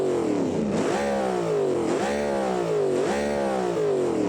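Big V8 drag car engine in the BeamNG racing game, revving hard in three repeated surges, each climbing in pitch and then dropping back, loud and close with no talking.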